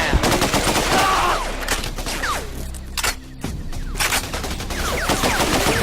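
Rapid, continuous bursts of gunfire from a squad shooter video game fill the whole stretch, loud and dense with overlapping shots and a brief dip partway through. No one speaks.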